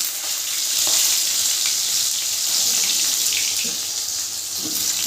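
Diced potatoes go into hot oil tempered with a dried red chilli and a bay leaf, giving a steady, broad hiss of frying that holds evenly throughout with a few faint clinks, no voices.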